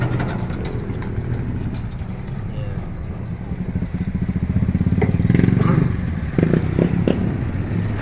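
A tricycle's small motorcycle engine rumbles and clatters as it passes along a town road in the Philippines, rising louder midway, with a voice talking over it.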